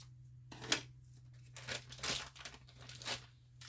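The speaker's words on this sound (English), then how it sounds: "We're just going to cut our bag open." Scissors snip open a plastic bag of frozen vegetables, spinach among them, giving a few short crinkling, tearing bursts close by with brief pauses between and no talk.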